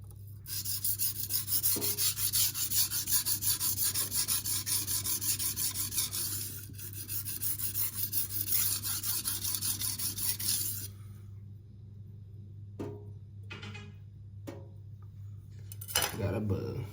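Knife blades rasp back and forth on a Venev resin-bonded diamond stone, F240 and F400 grit, in close, continuous gritty strokes that then break into a few brief scrapes separated by quiet pauses.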